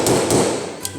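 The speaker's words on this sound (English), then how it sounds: "I'm going to take my hammer and just going to drive it down in there." A hammer drives an old bearing used as a driver to seat a new seal into the front wheel hub of a Suzuki LTA400F ATV, giving a few close metallic taps against steady shop background noise.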